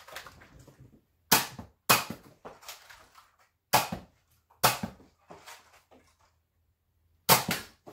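A Nerf Hammershot blaster fitted with a homemade plunger pad fires six times, each shot a sharp, loud snap with a brief decaying tail, spaced irregularly with quiet gaps between.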